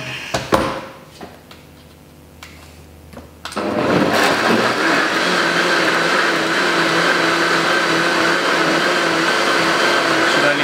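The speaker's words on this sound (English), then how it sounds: "So we'll just blend this up." A home blender whirs up to full speed blending a green chocolate superfood smoothie, loud and steady after a few clicks and thumps, droning on close by without pause.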